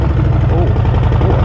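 Harley-Davidson Low Rider S motorcycle idling close by, a loud, deep, steady rumbling pulse from the V-twin engine running continuously.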